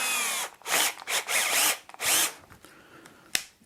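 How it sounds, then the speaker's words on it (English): A cordless drill bores with a 5mm bit in several loud, close bursts of whining motor and cutting, broken by brief pauses, then a single sharp click near the end. "I'd have been amazed if either one had an issue with a 5mm drill bit."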